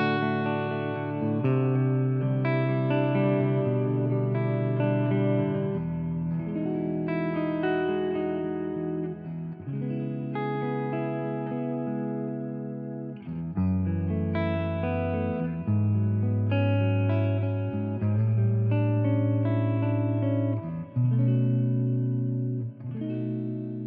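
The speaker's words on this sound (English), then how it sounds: "it has nothing to do with the amp, but it's a digital reverb" Electric guitar chords ring out one after another through a Soldano SLO-100 amp simulation in AmpliTube 5, drenched in lush digital reverb that lets each chord wash into the next, loud and continuous.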